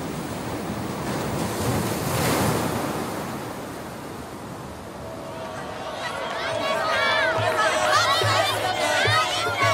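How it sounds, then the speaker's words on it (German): Strong wind blowing outdoors, a loud broadband rush that swells and eases, with a crowd of voices chattering faintly in the latter half. "es ist ziemlich windig hier"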